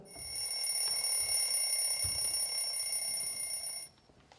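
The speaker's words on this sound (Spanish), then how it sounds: "sonó el sonido de que se había acabado el tiempo" An electronic alarm rings steadily and fairly faintly for about four seconds, signalling that time is up, then stops abruptly; no one speaks.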